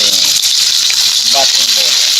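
Onions are sautéed in a hot pan for a homemade bat-and-ball soup, giving a loud, steady hiss and sizzle that fills the whole moment while someone speaks over it.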